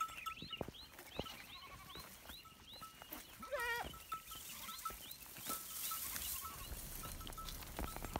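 Goats bleat repeatedly in a wildflower field in the mountains of Mù Căng Chai, Yên Bái, Vietnam: several short, wavering calls at moderate distance over faint outdoor background, with occasional rustling and bumps and no talk.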